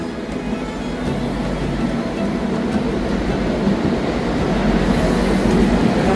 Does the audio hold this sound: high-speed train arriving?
yes